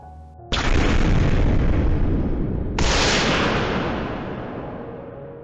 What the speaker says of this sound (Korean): 쾅 하는 굉음과 함께 창고 안에 있던 군용 폭발물이 터졌다